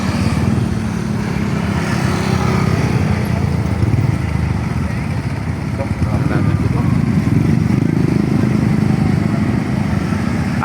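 A motorcycle engine drones loud and close at a steady pitch throughout, with a voice talking over it.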